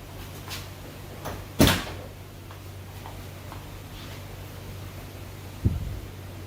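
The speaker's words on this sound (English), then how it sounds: "now let's get the door handle on" A door handle is fitted onto a Foxbody Mustang door during restoration. Two sharp, close clunks land several seconds apart over a steady low hum, with faint light taps between them.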